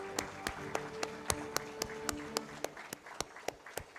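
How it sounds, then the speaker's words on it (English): Hands clap at an awards ceremony, sharp claps falling in a steady, evenly spaced beat of about four per second over a faint background murmur. "put your hands together to clap for him"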